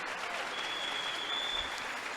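Steady applause from a church congregation clapping for Jesus, dense and continuous throughout, with a faint tone riding above it.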